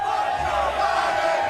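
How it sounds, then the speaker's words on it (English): A sports crowd chants in unison at a sporting event, a dense roar of many voices that carries steadily through the whole short stretch. "as you can hear the chants from the crowd, let's go, Brandon"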